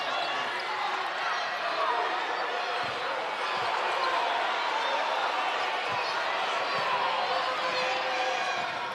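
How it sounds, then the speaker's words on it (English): A loud, steady roar fills a basketball arena during a women's college Division II Final Four game, constant crowd noise with faint thumps of bouncing balls and footfalls beneath it. "Crowd is loud"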